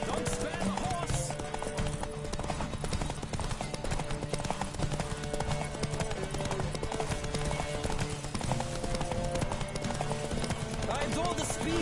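Rapid galloping hoofbeats pound steadily under a constant bed of music and game effects, loud and close throughout.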